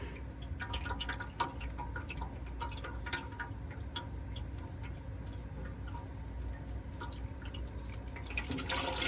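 Transmission fluid pouring from the drain bolt of a 2019 Toyota RAV4, a steady close liquid trickle with scattered drips and ticks running throughout, no talking.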